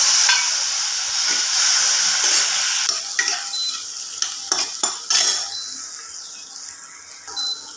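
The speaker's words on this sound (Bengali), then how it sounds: "এর মধ্যে টমেটো কুচোগুলি দিয়ে দেব।" Chopped tomatoes with panch phoron drop into a little hot oil in a wok, bursting into a loud hiss that eases off, followed by a series of sharp spatula clinks and scrapes as they are stirred close by.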